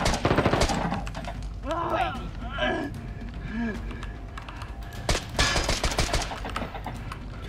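Rapid bursts of automatic gunfire crackle through the soundtrack of the shooter game Arena Breakout: Infinite, with loud keyboard clatter and people talking over the shooting.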